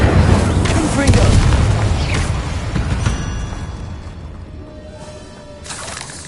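Confringo blasting spell in Hogwarts Legacy: a loud explosive boom with shattering crackle up front, then rumbling debris that fades away, with a brief magical shimmer near the end.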